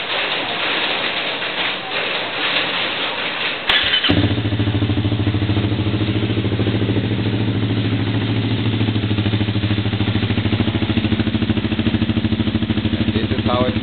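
A motorcycle fitted with a Tsukigi full carbon exhaust fires up after a few seconds of muffled background noise, then settles into a loud, even, steady idle.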